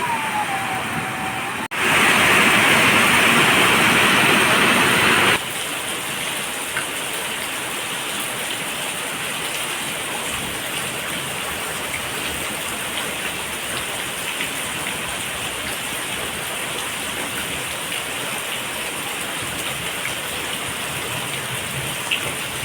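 Steady heavy rain pours down throughout with floodwater behind a house, a dense hiss with a brief bright electronic tone near the start and no voices.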